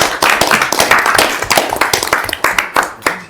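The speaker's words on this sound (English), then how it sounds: "we need to give him a round of applause." A small group at a board meeting claps in applause, brisk irregular hand claps sustained for a few seconds at close range.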